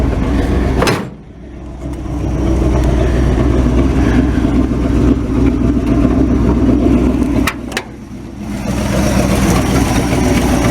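A 1959 Chevy Viking truck engine idles steadily with the hood up, a continuous low rumble broken by two brief thumps or dips, with no talk over it.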